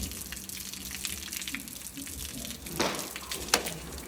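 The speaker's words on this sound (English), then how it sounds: "he just applies coolish water to the hindquarters so he gets used to that before he moves on to the wound" Cool water pours and splashes over a horse's hindquarters, a soft continuous gushing with a couple of louder splashes toward the end, fairly faint.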